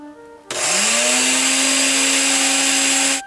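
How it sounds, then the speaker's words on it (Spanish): A household blender switches on abruptly and runs at a loud, steady high-pitched whir, with a slight rise in motor pitch as it spins up and a clean cutoff a few seconds later. "Encender la licuadora de nuevo, como aquel día."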